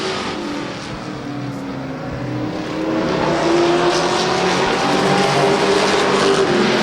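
Stock cars racing at Twin State Speedway in Claremont, New Hampshire, during a classic racing event, a loud continuous roar of several engines that builds as the cars pass close by.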